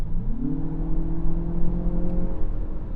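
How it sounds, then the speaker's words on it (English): Engine note of a 2025 Lexus RX 500h F Sport Performance hybrid SUV at highway kickdown, a steady drone that steps up sharply in pitch as it drops a gear, then holds a rising, strained tone over road noise. "you can hear it drop a gear"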